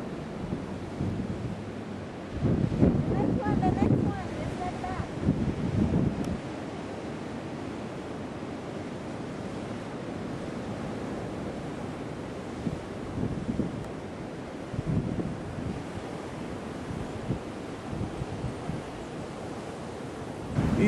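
Ocean surf rolling and breaking nearby on the Pacific Northwest coast, with gusts of wind buffeting the microphone and surges of crashing water from large waves.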